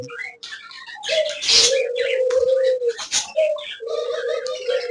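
A pet parakeet calls in a series of close, clear squawks and whistles, bursts of chatter alternating with sustained tonal calls, loud and continuous through the stretch.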